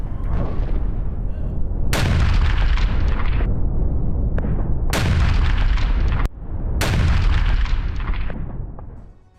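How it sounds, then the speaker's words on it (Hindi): Russian guided artillery rockets striking on the front line, three heavy, close booms in quick succession, each with a long, loud rumbling roll that barely fades before the next. "रूस के गाइडेड आर्टिलरी रॉकेट हमले।"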